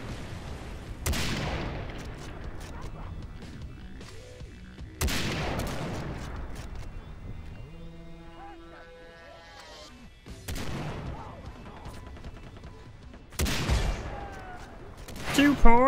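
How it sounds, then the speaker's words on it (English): Gunfire in the video game Far Cry 3 comes in four sharp, loud bursts of rapid shots spread across the stretch, with quieter game ambience and faint background sounds between them. "I hear gunshots, but I see no one."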